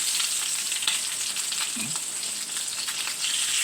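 Bacon fries in a hot pan with a steady, close sizzle and crackle that continues throughout, without any speech.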